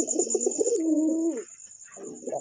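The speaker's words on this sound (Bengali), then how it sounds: "দেখছেন কবুতরটা?" A Prince Kagoji pigeon in a loft coos close by, a soft, low, rolling coo that swells and trails off, followed by a quieter burbling call, over a faint high background hum.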